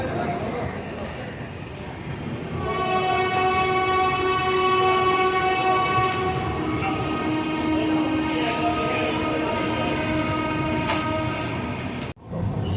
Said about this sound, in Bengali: আমাদের ট্রেন কিন্তু মালদা টাউনের চার নম্বর প্ল্যাটফর্ম থেকে ছেড়ে গেল